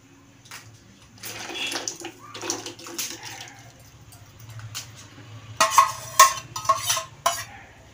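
Pressure-cooked khesari dal goes into a pot of boiling milk with scraping, clinking spoon and pot clatter in irregular bursts that grow louder toward the end.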